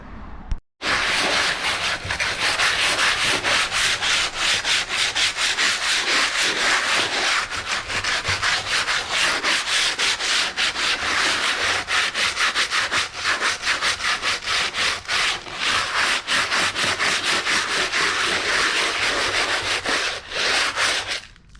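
Sandpaper rubbed over a fiberglass-covered stone replacement for a historic mansard roof, loud close continuous scratchy strokes in a fast steady back-and-forth rhythm that runs unbroken for about twenty seconds.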